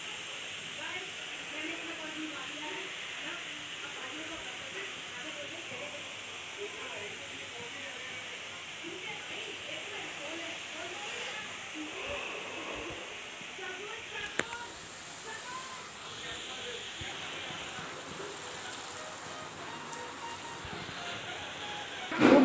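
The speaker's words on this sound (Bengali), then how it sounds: "খুব বৃষ্টি হচ্ছে, দেখুন খুব বৃষ্টি হচ্ছে।" Heavy rain pours down outside a kitchen window in a home where red amaranth greens are being fried: a steady, dense hiss runs unbroken throughout at an even level, with a brief louder knock near the end.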